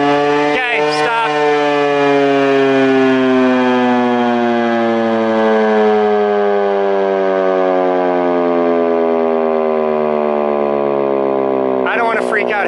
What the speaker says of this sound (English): I don't want to freak out half the town because we were like, why is there a tornado siren?